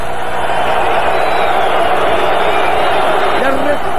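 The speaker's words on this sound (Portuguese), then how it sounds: "e a resposta em vaia do torcedor americano" Dense, loud crowd noise fills a large American boxing arena at the Mike Tyson vs Frank Bruno rematch, a steady roar of booing spectators that holds without pause.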